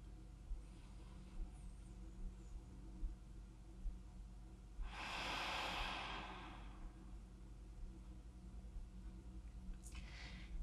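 One deep, full breath in a relaxed pose at the end of a mat-based full body workout: a single long, soft whooshing exhale in the middle, with faint breathing around it in a quiet room.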